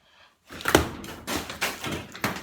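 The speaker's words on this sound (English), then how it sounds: "All the doors work. Emergency doors." Bus emergency doors swing open and shut on a farm, a series of loud, close door thunks and clatters following a short quiet start.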